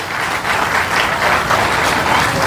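A school audience at an annual function breaks into loud, sustained applause, many hands clapping in a dense roar that fills the hall without pause.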